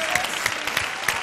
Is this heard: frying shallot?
no